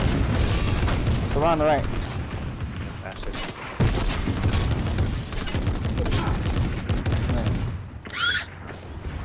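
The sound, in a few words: gunfire in the video game Fortnite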